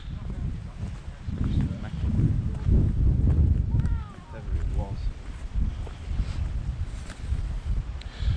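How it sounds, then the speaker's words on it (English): Breezy wind outdoors in open ground at Ladybower Reservoir buffets the microphone in heavy, uneven low rumbling gusts, with a faint voice briefly audible midway. "It is a bit of a breezy day today"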